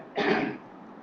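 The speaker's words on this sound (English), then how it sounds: "Let me clear my throat." A single short throat clearing, close and moderately loud, lasting under half a second against a quiet background.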